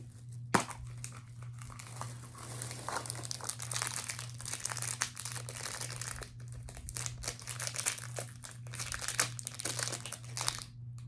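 A zippered plastic package crinkles and crackles up close as it is opened for several seconds, with irregular bursts of rustling and a few sharper tearing snaps.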